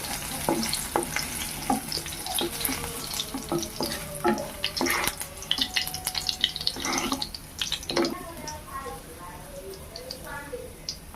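Ginger and kalyana murungai leaves are sautéed in a pan: uneven scraping and clicking stirs over a low sizzle, with intermittent watery sounds and a voice talking at times.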